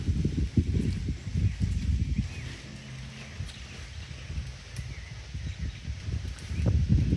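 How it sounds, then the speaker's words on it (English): Hurricane wind gusting outdoors, a low rumbling roar that swells and eases, with faint rustling and an occasional distant bird. "It's barely raining now, but it's windy."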